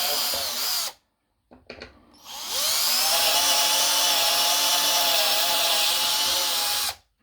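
A power drill bores a screw hole into wood for a DIY bed frame, a short whine at first, then after a pause a long steady high-pitched drilling run before it stops.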